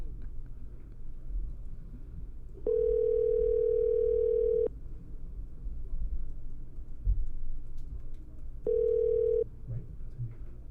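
A telephone line tone sounds while a call is placed, in two steady bursts: a long one of about two seconds, then a shorter one, over a low rumbling background.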